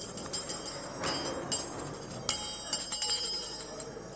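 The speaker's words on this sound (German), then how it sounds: "Müssen wir uns auch mal eine neue Glocke besorgen." A chairperson's hand bell at a city council session, struck in a series of bright, quick metallic rings with uneven rhythm, clear and close in a quiet room.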